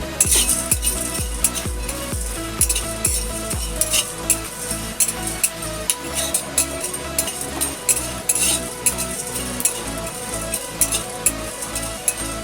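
About eight to ten black peppercorns are dry-roasted in an oil-free pan, giving steady scraping, rattling and metallic clinks from stirring that keep up throughout.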